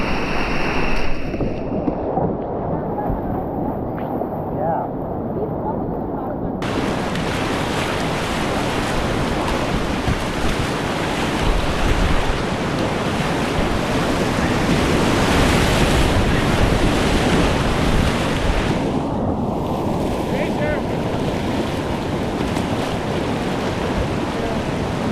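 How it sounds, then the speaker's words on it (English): Rushing whitewater on the Upper Yough river heard from a kayak, a loud continuous roar of churning rapids with wind buffeting the microphone, shifting in tone as the boat moves. "I couldn't even hear her over the water."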